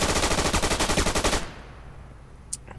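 Machine gun in the World War II shooter Day of Infamy, set at the invasion of Bastogne, firing a loud close rapid burst that cuts off, followed by quieter distant battle noise and a single sharp crack.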